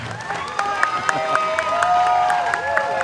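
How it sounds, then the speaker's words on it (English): Crowd around a cage-fighting bout applauding and cheering two young fighters after the decision, with scattered whistles and shouts over a steady clapping bed, fairly close and loud. "Nice round of applause to both these young men."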